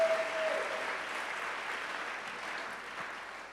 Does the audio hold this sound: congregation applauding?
yes